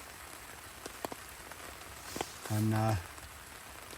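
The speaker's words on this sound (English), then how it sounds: "all the rain was pissing in my bivvy, coming in my bivvy" Rain falling on a tarp shelter over a bivvy, a faint, sparse patter of individual drops ticking on the fabric, with a brief voice cutting in partway through.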